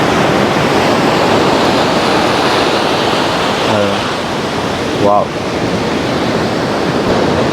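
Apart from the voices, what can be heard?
strong ocean waves at the beach in the rain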